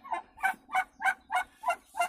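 Frightened farmyard turkeys and guinea fowl give seven evenly spaced, loud harsh calls in quick rhythmic succession, close by with no talking.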